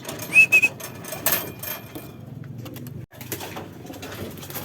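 Racing pigeon Negra, the last bird home to the loft after a Talavera, Nueva Ecija training release, gives a few short, close coos and whistly calls early on, followed by softer rustling and background noise.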